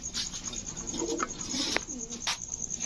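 Black Gorra pigeons, a male and a female, giving soft low coos in short close phrases, with faint background chirping.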